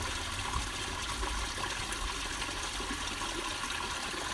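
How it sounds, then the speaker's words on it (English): Running water, a steady full-bodied rush and trickle of flowing water, continuous and fairly close, with no voices over it. "This sound and this metaphor of running water"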